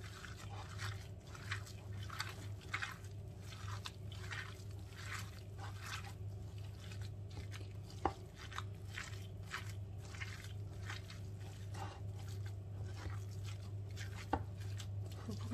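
Ground veal being mixed by hand into a marinade for kefta, giving soft, steady squishing and wet slapping in a regular rhythm over a constant low hum, with a couple of sharper knocks.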